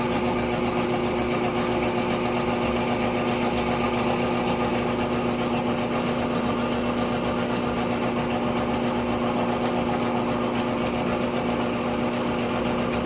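A GE top-load washing machine runs its spin cycle, a loud steady motor hum and whir with no pauses, nearby and alone.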